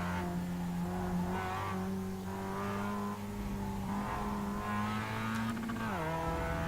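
A Mazda Miata race car laps the Okayama circuit with a loud, steady engine drone held close to the listener, its pitch dipping sharply near the end as the car slows for a corner.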